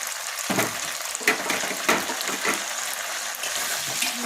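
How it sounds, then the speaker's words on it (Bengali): Chicken pieces frying in ghee and oil in a pan, a loud continuous sizzle broken by several sharp bursts as pieces hit the fat and are moved, close up with no talking. "এরপর আমি এর মধ্যে চিকেনের টুকরোগুলো দিয়ে দেব।"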